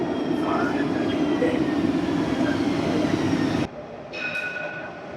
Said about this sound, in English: Jumping on a Line 2 tram, we're going to head all the way to the end of the line at the port